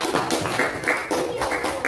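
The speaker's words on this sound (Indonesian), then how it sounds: "kita beri tepuk tangan kelompok 4" Classroom applause for a student group, a short burst of many hands clapping close by, steady and lively for about two seconds.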